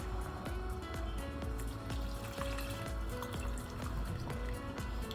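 Hutki (dried fish) water poured into a pan of muki dhaal makes a steady, quiet liquid trickle with faint drips and a soft bubbling, heard close up and continuously with no voices.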